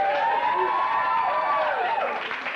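A crowd at a fundraiser cheers and hollers in a sustained, fairly loud wash of many voices, with whoops rising above it.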